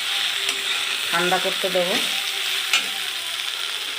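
Black cumin seeds and flat bean leaves frying together in a pan for a Bengali bean mash, a steady soft sizzle throughout with a short stretch of speech in the middle.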